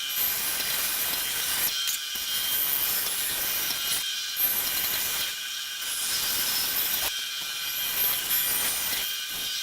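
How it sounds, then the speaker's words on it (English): Bandsaw blade cutting a bear profile from a wooden board, a steady high whine with a harsh rasping cut that pauses briefly every couple of seconds as the workpiece is turned. "So now we're going to cut out the profile on the bandsaw."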